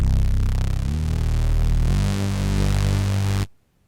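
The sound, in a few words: Omnisphere Nasty Attitude Bass synth preset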